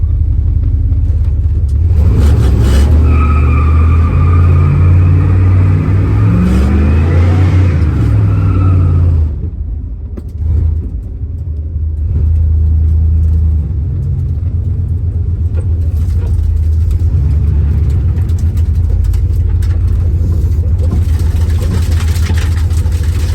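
Car engine roaring and rumbling loudly while burning rubber to make tire smoke, a sustained heavy drone with revving, a brief dip midway, then steady again.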